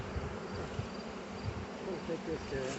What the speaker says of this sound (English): There's a lot of bees in this hive though, so it's good.